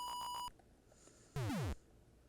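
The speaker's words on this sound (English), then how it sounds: "timer countdown" Super Mario Bros video game timer countdown: three short, evenly spaced electronic beeps followed after a pause by a brief descending chirpy sweep, clean and loud against near silence.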